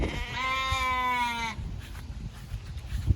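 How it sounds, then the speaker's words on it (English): A sheep on a small farm gives one long, loud, wavering bleat up close. After it stops, quieter farmyard noise carries on. "Sheep."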